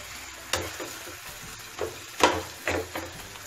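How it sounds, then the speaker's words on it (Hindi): Egg bhurji with green chilli fries in a pan at medium flame, soft sizzling beneath several distinct scraping and mashing strokes of a spatula at irregular intervals, close and moderately loud. "तो यहाँ इसे हमें हल्का सा मैश करते हुए फ्राई करना है, कम से कम 2 मिनट के लिए मीडियम फ्लेम पर"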